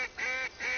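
Ducks call in a hunting video game, two quick nasal honks in succession, moderately loud and without talk.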